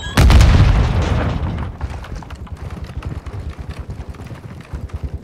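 A grenade explodes in Call of Duty Warzone 2.0 with one loud, close boom at the start that decays into rumble, followed by rapid rhythmic clattering gunfire.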